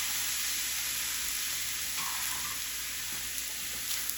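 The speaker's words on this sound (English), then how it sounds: "I want to toast that rice just a little bit with those spices before we add our liquid" Rinsed jasmine rice toasts with spices in a pot for Cajun shrimp and sausage jambalaya, making a constant bright frying sizzle with faint stirring scrapes and no talking.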